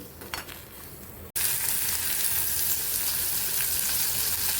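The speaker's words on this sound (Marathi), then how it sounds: "मी झिंगा भाजून घेणार आहे याच कढईमध्ये" Prawns frying in a hot wok-style pan: a loud, steady sizzle starts abruptly after a brief quieter moment and hisses on without a break.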